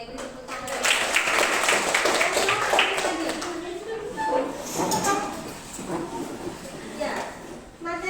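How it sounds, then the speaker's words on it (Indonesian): Students in a senior high school mathematics classroom break into applause. The burst of clapping is loudest over the first few seconds and then thins out, with voices chattering over and after it. "Oke, beri tepuk tangan"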